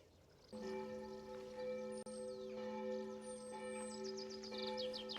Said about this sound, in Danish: klokken er 7 nu, og klokkerne ringer over på Domkirken